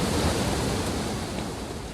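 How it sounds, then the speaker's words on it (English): A waterfall in the video game Asterigos roars as a dense, constant rush of falling water, steady and loud with no other sounds over it. "We're inside the waterfall."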